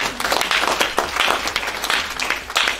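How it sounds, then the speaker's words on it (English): A church congregation at a fasting and prayer conference claps together in loud, rhythmic bursts of many hands, close and sustained with no talking. "Clap your hands"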